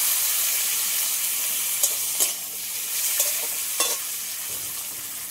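Chopped onion and tomato fry in a pan with a steady, quiet sizzle, broken by a few soft scraping stirs near the middle.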